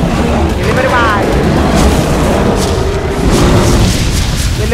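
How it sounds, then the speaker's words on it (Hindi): Loud electric crackles and booms from a shock Giganotosaurus throwing lightning in the ARK: Survival Evolved video game, dense and continuous through the whole stretch; someone talks excitedly over the noise. "अरे बिजलियां फेंक रहा है, बिजलियां फेंक रहा।"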